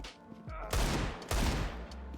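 A Deagle pistol fires in a video game aim-training map: two loud, sharp shots with ringing tails about half a second apart, with fainter game sounds between them.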